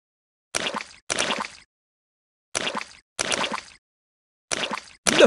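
Cartoon splashes in muddy puddles from a Peppa Pig video game come in short bursts: two quick pairs of wet, sloshing splats with silent gaps between, then a fifth and sixth starting near the end.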